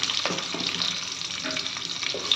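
Whole spices, bay leaves, cashews and raisins frying in ghee and oil for Kashmiri pulao, giving a steady close sizzle with a few soft stirring clicks and no talking.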